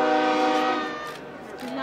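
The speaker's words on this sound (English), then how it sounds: "I'm not impressed by the train noise." A loud, rich train horn from the CP Holiday Train blares and gradually softens over about two seconds, with rumbling noise underneath.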